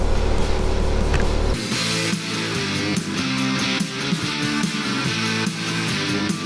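A motorcycle rides at speed on an adventure trip, its engine a loud sustained roar with shifting revs and wind rush, close throughout with a change in tone after a second and a half.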